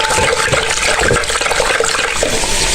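Yogurt being churned into lassi for kadhi pakoray, a loud, continuous watery swishing and sloshing, steady and close throughout with no pauses.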